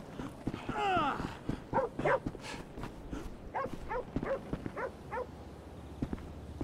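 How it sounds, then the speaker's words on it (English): A dog barks repeatedly in the GTA 5 video game, sharp yips and barks in an irregular series, mixed with whimpers and game voices. "Man, that's a cool-ass dog you got, homie."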